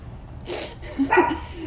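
A dog gives a short bark or yip indoors, with the windows open to the street, one brief burst followed by a softer whimpering sound, fairly close and alone without talk.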